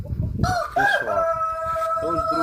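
A rooster crows once, a loud, close, drawn-out cock-a-doodle-doo rising then holding a long tone, preceded by brief low clucking.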